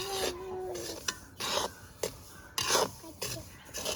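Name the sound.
semolina (rava) dry-roasting and stirring in a pan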